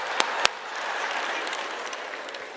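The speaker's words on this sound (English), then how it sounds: "Look at all the brothers just clapping." During a church sermon, a congregation claps along. A couple of sharp, close claps stand out at the start over a steady wash of applause that carries on evenly through the short stretch without speech.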